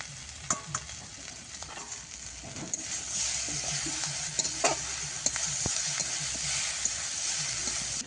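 Shrimp sizzles loudly in a hot pan while a utensil stirs and scrapes repeatedly, close up, with no voices.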